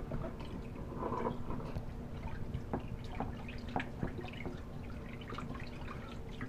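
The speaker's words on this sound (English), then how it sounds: "I'm going to give this one last rinse here so we can get nice clean gold" Water quietly rinses gold panning concentrate indoors, with faint drips and light trickling at close range.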